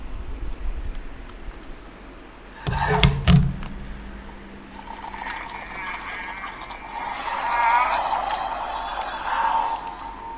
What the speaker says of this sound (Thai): ก็จะมีเสียงของการกำหมัดแบบนี้นะครับ ซึ่งก็เป็นไปตามในซีรีส์เปียบเลย